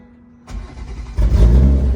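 A tuned BMW M340 B58 with a downpipe cold starts: a sharp crank catches into a loud rising roar that holds a deep, rumbling high idle, heard up close.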